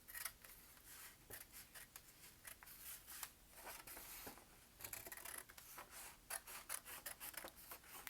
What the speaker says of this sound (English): I'm going to cut right along that line that I just folded